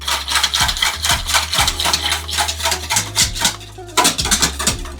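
A spoon stirs applesauce and almond milk in a bowl, scraping and clinking against the sides in steady, repeated strokes, fairly close and moderately loud, with no voices.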